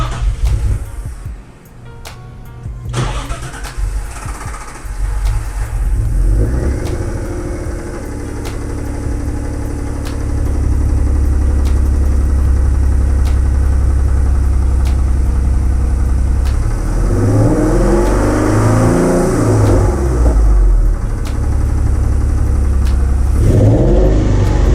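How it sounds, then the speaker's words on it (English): A G35 car engine cranks, starts, idles roughly, then revs up and down repeatedly, loud and close. "So the car was able to rev normally"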